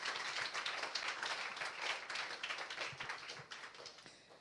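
A church congregation claps together, a dense wash of hands at moderate distance that holds steady and then slowly tapers, with no speech over it.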